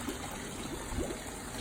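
A small koi pond waterfall trickles clear water in a steady, soft, continuous wash, close by and alone, with no break in the flow.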